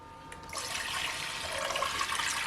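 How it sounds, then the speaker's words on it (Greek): Water pours into a pot during natural Easter egg dyeing, a steady close splashing rush that starts abruptly after a brief pause and continues alone. "Θα προσθέσουμε νερό"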